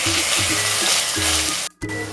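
Ginger and green chili paste hits fried onions in a hot pan, giving a loud, close, hissing sizzle with a few scraping stirs, cut by a brief silence near the end before frying resumes.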